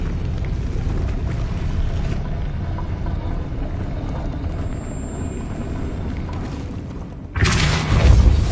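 Depulso force spell in Hogwarts Legacy: a low rolling rumble of game ambience followed by a sudden loud whooshing boom near the end, close and forceful.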